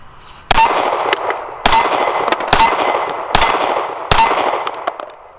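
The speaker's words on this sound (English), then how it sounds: "Alright, that's 5 shots out of the 9mm." Five loud, close 9mm pistol shots firing Federal 147 grain rounds outdoors, each a sharp crack spaced roughly a second apart, with ringing echo trailing after every shot.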